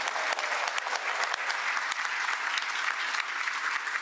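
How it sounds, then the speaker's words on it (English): Members at a Rotary club meeting give a round of applause for community organizations, a steady, moderately loud burst of many hands clapping without a break. "We could have a round of applause for all of these organizations"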